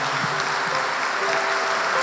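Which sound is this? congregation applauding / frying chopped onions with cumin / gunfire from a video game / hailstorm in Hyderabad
congregation applauding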